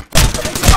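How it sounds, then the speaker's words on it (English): Dense, loud gunfire in the video game Apex Legends, rapid overlapping shots crowding the short moment and heard close up. "I'm getting shot."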